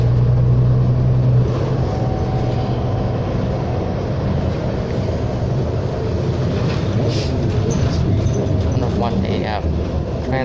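A 2019/20 New Flyer XD60 articulated city bus on an express route pulls away with a steady, loud engine and drivetrain drone that persists throughout, with the rumble of the cabin underneath.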